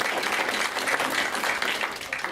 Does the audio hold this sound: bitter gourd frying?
no